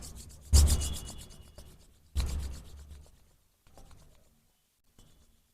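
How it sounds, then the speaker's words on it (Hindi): Palms are rubbed slowly together during pranayama breathing practice: two strong dry swishing strokes, followed by softer, fading rubs in a quiet room. "और धीरे धीरे रब करते हुए हाथों को"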